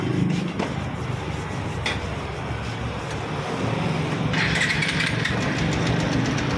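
An engine idles steadily at close range, a constant mechanical rumble with a faint rattle and a brief clank partway through.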